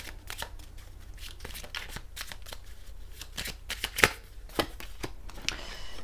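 Tarot cards are shuffled by hand in quick, crisp riffling bursts at close range, with one card slipping out near the middle and no talking.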